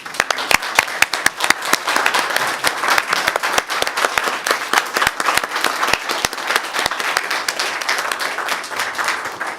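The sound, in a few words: council meeting audience applauding staff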